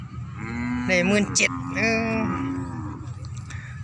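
Cattle at a Thai livestock sale low repeatedly, drawn-out harmonic calls rising and falling over about two seconds, fairly close and clear against steady farmyard background noise.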